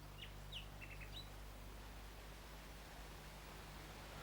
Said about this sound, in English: Do you hear the nightingales singing in the wood?